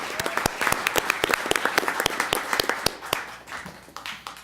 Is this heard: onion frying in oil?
no